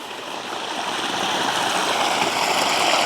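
Creek water flows in a steady, close rushing hiss that grows slightly louder over a few seconds, with no voices.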